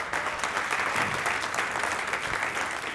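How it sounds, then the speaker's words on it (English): Applause from a conference audience, continuous close clapping of many hands at a fairly even level for the full few seconds. "So Manos, just a round of applause to you and Maria."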